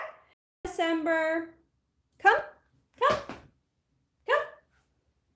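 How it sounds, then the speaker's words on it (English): A dog whines and barks indoors in several short, close bursts separated by pauses, with a person speaking briefly between them. "I think I need to take a whiny dog outside before she pees on my floor"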